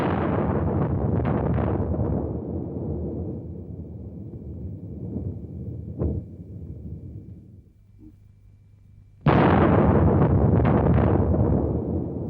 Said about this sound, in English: The explosion was the equivalent of more than 50 million tons of TNT